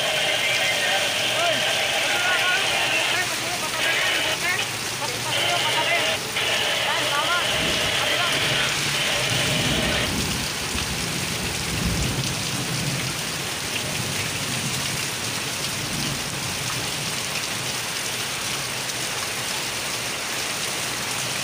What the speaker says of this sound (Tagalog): mag-iisang oras ang ulan na